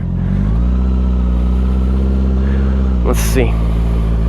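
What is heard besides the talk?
2021 Honda CBR650R motorcycle engine throttle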